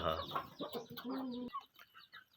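A black hen clucking with her young chicks in a backyard, giving a run of close, moderately loud clucks and short calls, then fainter peeps and rustling as she settles.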